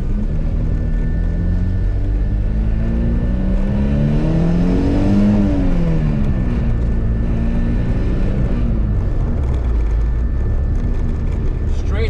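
Honda CRX with a B18C1 GSR engine and a no-resonator exhaust, all-wheel-drive build, running loud and raspy close by, with a rising and falling rev sweep midway over a steady idle drone.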